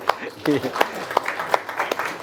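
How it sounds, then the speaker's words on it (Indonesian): At a vocational high school event, a few sharp, scattered claps ring out a few at a time while a voice talks over them. "Tepuk tangan dulu."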